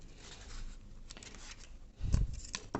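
Scissors trim excess tape from the aileron of a small foam delta-wing model aircraft, giving a few brief close snips and rustles near the end after quiet handling.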